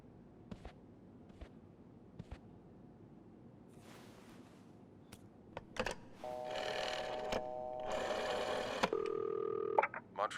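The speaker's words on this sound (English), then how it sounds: "We're gonna do this off the front desk phone." Front desk telephone in a video game: a few faint clicks, then loud in-game phone dialing with a series of steady electronic dial tones and key beeps stepping through pitches, close and alone.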